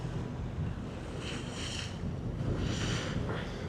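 Speedboats run past at sea off Phuket, their engines a steady rushing drone under strong wind noise and wash of waves, swelling in two louder passes with no talking.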